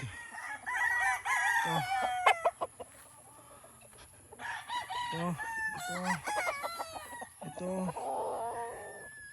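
Stag gamecocks, young fighting roosters, crow repeatedly and cluck at close range, several loud crows overlapping in quick succession with short pauses between bursts.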